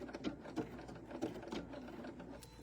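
A domestic sewing machine finishing a stitch, a quiet rapid mechanical whirring with rhythmic needle ticks over roughly two seconds, close by and alone.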